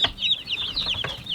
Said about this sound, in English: Cornish crosses already know what to do. They're already eating.